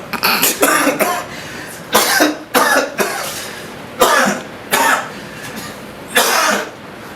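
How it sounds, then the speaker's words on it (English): Harsh coughs and throat clearing come in repeated short bursts, about eight in all with pauses between them, close and loud, with no talk. "You thought I was gonna cough right there."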